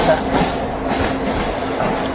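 A passenger train near Kopargaon railway station gives a steady, loud rumble heard from inside the carriage, with continuous rolling wheel noise and no clear talking.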